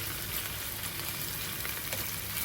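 Bacon frying in a pan, a dense, even crackling sizzle heard close and steady throughout, with no talking.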